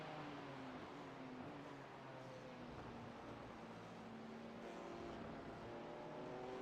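LMP1 prototype race cars in the iRacing 24 Hours of Spa-Francorchamps endurance race, engines droning steadily with rising and falling pitch as several cars pass, a continuous dense motor roar throughout.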